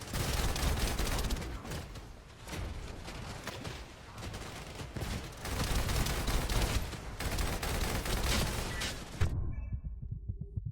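Rapid, dense gunfire from the player's weapon in a free-to-play shooter game, loud and almost continuous in rolling bursts, then cutting off abruptly near the end and leaving faint residual tones.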